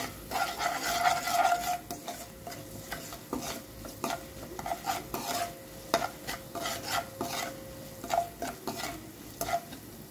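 A spoon scraping and stirring an onion mixture with turmeric, salt and chili frying in a pan, soft sizzling under irregular scrapes and clinks, close and fairly quiet.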